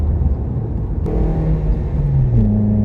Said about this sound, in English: I'm going over a whole bunch of bumps, and if you didn't know, you probably wouldn't even think that this car's on coilovers.